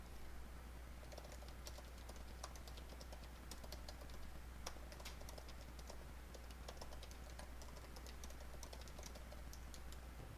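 Keys on a computer keyboard are tapped in an irregular stream of faint clicks while a support ticket description is typed, heard over a low constant electrical hum with no talking.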